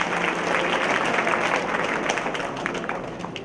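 An audience at a national artists' event applauds a teacher and singer, a loud, dense burst of crowd clapping that stays full for about three seconds before tapering slightly.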